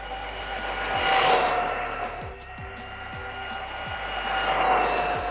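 A budget RC car runs at full throttle, its high electric whine rising and falling as it passes near and away, with light clicks and rattles over the surface and no talk.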